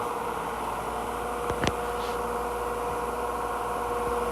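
A 5.5-amp motor on a super air screw pedestal fan running steadily, giving a constant close hum with a brief tap partway through.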